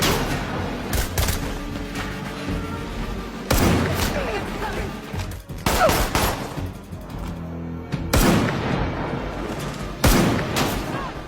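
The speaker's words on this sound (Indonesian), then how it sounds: "pasukan Anthony yang melihat kilatan tembakan dari mercusuar" Gunfire from a firefight scene in The Terminal List, repeated bursts of shots and booms in several loud clusters over a dense, rumbling action score with no clear talk.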